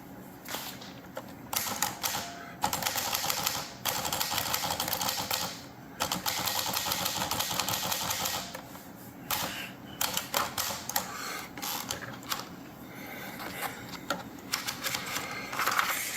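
Someone types on a Smith-Corona Skyriter portable typewriter, producing close, rapid bursts of sharp mechanical key clacks in uneven runs, broken by short pauses, with no speech.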